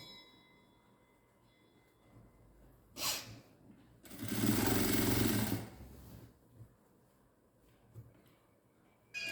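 Sewing machine stitching the sleeve of a chudidar, one main burst of about two seconds after a short earlier run, nearby and fairly loud, with quiet pauses around it.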